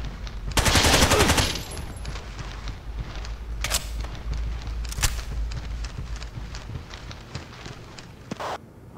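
A loud burst of automatic gunfire opens the scene in Rainbow Six 3 on PS2, followed by a few sharper single shots and a final distant report over a low background.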